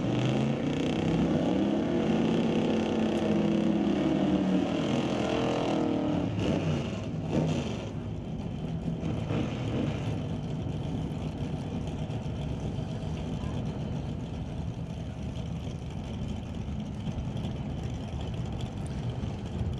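A Super Street drag racing car at the Titanium Strip rumbles with a loud, steady engine roar that holds throughout, rising in a brief rev early on, with crowd and track ambience mixed in.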